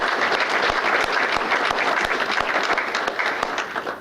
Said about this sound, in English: So let's have a round of applause for all of those.